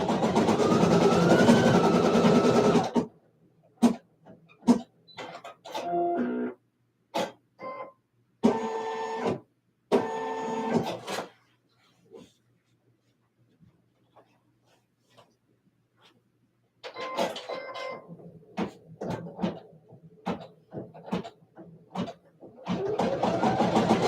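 Embroidery machine sewing satin stitches on an appliqué gumdrop, a rapid whirring buzz that starts and stops in short bursts separated by quiet gaps, then resumes in a longer run near the end.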